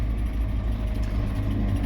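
A Massey Ferguson 8S 225 tractor with a 7.4 litre Sisu engine running, heard as a steady, muffled low drone from inside the cab at a constant pace, with no speech.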